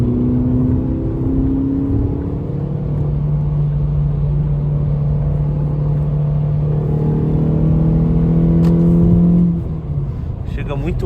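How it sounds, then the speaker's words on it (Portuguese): A car engine drones steadily from inside the cabin, its tone rising slowly as the vehicle accelerates, with a loud, continuous rumble throughout. "A aceleração desse carro é boa."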